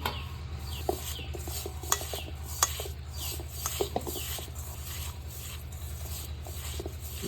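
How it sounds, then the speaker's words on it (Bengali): Crushed green chillies and onions squeezed and mixed by hand in a bowl for a chicken dish, giving a continuous wet rubbing and squelching texture with occasional sharp clicks, close and steady, no talking. "এখন পেঁয়াজগুলো দিয়ে আমি ভালোভাবে মাখিয়ে নেব।"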